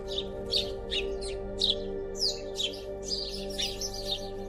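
Sparrows chirp in a quick series of short, bright notes over a steady low hum, clear and fairly close.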